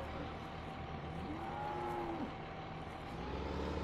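Cattle mooing in the video game Farming Simulator 2015, a single drawn-out low moo rising and falling over a steady farm-machinery drone, with no talking.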